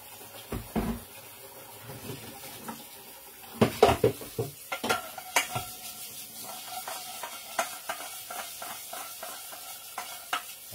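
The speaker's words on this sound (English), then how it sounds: "we are doing our dishes" Dishes being washed: irregular clinks and clatters of plates, pots and cutlery over a soft running-water wash, close and moderately loud without talking.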